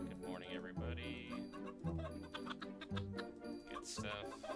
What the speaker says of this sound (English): Chickens in the morning, how we doing?